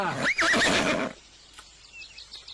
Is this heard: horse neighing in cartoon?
yes